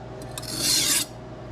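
A thin Rada kitchen knife is drawn across a King waterstone: two quick scraping strokes followed by one longer, brighter rasping pass, close and clear with no talking.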